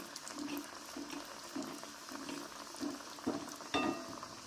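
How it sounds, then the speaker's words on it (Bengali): A cauliflower chop frying in hot oil, a soft bubbling sizzle with rhythmic pulses and a sharper burst near the end, close and moderately quiet. "এবং আমার তেল তেলটা গরম হয়ে গেছে আমি একটা চপ দিয়ে দিলাম"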